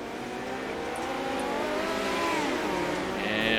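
Midget race cars on the dirt oval of Kern County in the iRacing video game roar as one continuous, steady engine drone, with the pitch swelling and sliding as the cars accelerate and a brief higher whine near the end.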